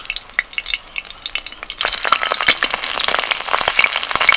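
Pieces of cabbage and paneer frying in oil in a kadai as they are turned over: sparse crackles at first, then a louder, continuous sizzle with sharp spits and pops and occasional stirring scrapes close by.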